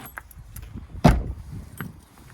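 The exterior door lock on a 2021 Swift Fairway Classic caravan is turned with a key, a single sharp metallic clunk among lighter jangling clicks, close up and alone.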